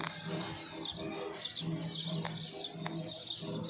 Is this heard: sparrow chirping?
yes